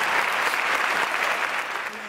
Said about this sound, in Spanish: Señores, un aplauso para este panel.